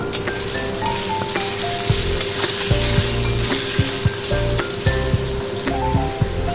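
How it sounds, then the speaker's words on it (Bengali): Chhana (paneer) pieces fry with salt and a little turmeric in hot oil in a kadai. A loud, continuous sizzle and crackle fills the clip, broken by repeated clinks and scrapes of a stirring spatula, with no voices. "একেবারে সামান্য দিয়ে দেবো হলুদ গুঁড়ো। ভালো করে লাল লাল করে আমি ভেজে নেব।"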